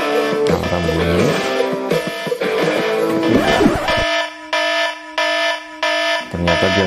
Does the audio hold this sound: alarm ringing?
yes